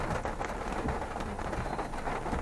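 Steady rain pours down on a city street after a typhoon, a dense, continuous hiss of drops, fairly close and even throughout.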